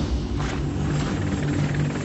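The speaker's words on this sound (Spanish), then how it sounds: "Integran la dotación 3 pequeños helicópteros Huey y un Sea Stallion de grandes dimensiones" Military helicopters, three small Huey models and a large Sea Stallion, in a steady loud rotor and engine drone with low thumping pulses, continuous and close with no pauses.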